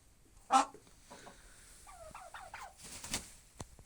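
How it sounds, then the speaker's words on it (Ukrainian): A red turkey hen gobbles in a quick warbling burst, somewhat distant, after a brief sharp noise, with faint farmyard background. "Рижа індичка."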